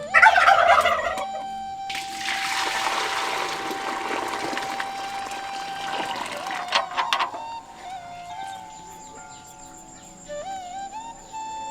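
Loud, close, high-pitched clucks and squawks from a country chicken (a village rooster) being caught for biryani, with trickling water and clattering handling noises. The cries come in bursts and then fade to faint calls.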